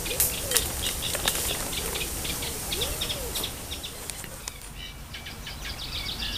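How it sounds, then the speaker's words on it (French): Birds chirp and tweet outdoors beside a fishing pond in scattered bright calls against a soft, steady background hiss, with occasional fluttering nearby. "Je vous mets un petit chant d'oiseaux"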